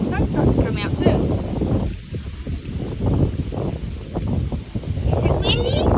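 Wind on a January day buffets the microphone outdoors, a loud low rumble that rises and eases in gusts, with voices heard beneath it.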